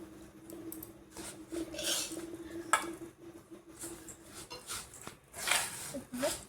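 Flattened rice being stirred with jaggery in a pan to make chire moa, irregular clinks and scrapes of a utensil against metal, with a voice talking softly alongside.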